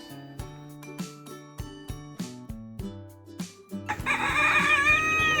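A pet hen clucking in a short, evenly spaced series of soft clucks that builds into a louder, drawn-out squawk near the end, with a faint tinkling in the background.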